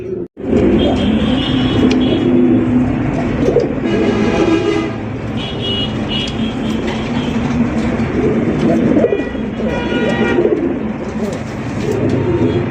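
Fancy Rasgolla breed pigeons cooing at close range, repeated throaty coos over a busy background hum of a bird market.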